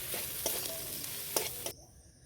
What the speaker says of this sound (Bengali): এবার ডিম ভাজাটা আমি এর সাথে দিয়ে দিলাম, দিয়ে আমি আরেকবার নেড়ে চেড়ে এবার লাগিয়ে নেবো